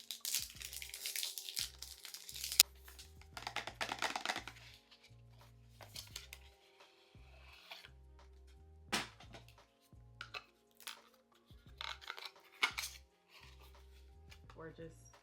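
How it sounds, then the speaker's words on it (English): Unboxing of a Miu Miu Miutine perfume, with crinkling wrap, rustling paper and soft taps and scrapes from the cardboard box. The noises come close up in short irregular bursts, with quiet pauses in between. "So let's go ahead and unbox it"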